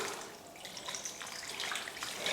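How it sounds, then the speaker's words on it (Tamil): Water is poured into a pot of mixed vegetable sambar after the masala is stirred in, a soft, continuous splashing trickle at moderate distance, fairly quiet and without speech. "மசால் போட்டு கலந்ததுக்கப்புறம் தண்ணி சேர்த்துடலாம்."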